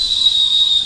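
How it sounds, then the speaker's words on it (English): A steady, high-pitched whistle holds on a single tone throughout, loud and close, like a kettle whistling on the boil, with no speech over it. "Ah, kettle."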